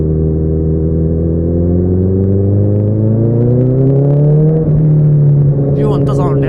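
A loud motorbike engine revs in first gear on a cold day, a steady close-up roar whose pitch climbs gradually, then dips briefly before settling again.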